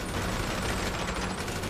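Dense, continuous gunfire echoes across a shooting range inside a bunker in GTA V Online, an unbroken rattling fusillade of overlapping shots that fills the whole stretch at steady loudness.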